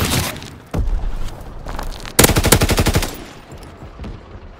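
Machine gun fire from the World War II video game Call of Duty WW2, with loud rapid bursts broken by short pauses and one long rattling volley near the middle.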